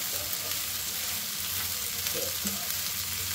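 Okra fries in a pan with a steady close sizzle, broken now and then by soft stirring scrapes and light pops, with no voices.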